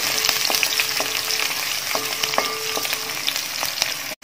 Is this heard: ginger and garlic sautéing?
yes